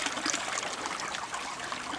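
Water runs through a gold sluice in a steady, soft trickling and splashing flow, faint and continuous, with no voices.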